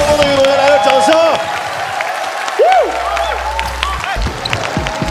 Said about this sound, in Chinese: 我们给双方的运动员来个掌声。